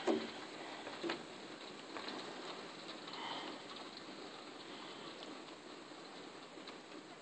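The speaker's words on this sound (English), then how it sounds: "Where the rain doesn't get in." Steady soft rain hiss fills the clip, a broad wash of patter with a couple of brief knocks near the start, fairly quiet and continuous.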